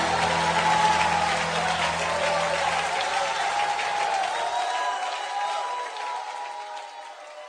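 Applause from a worship gathering rolls on as a broad crowd clatter, with sustained music tones beneath it that fade partway through, leaving the clapping to thin out gradually.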